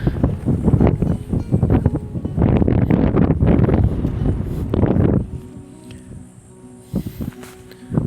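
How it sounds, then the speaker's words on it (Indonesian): Strong coastal wind buffets the microphone at the shore in Malindi, Kenya, loud gusty roaring for about five seconds before easing to a lighter rush with a few short bumps. "suasananya sangat-sangat berangin di sini."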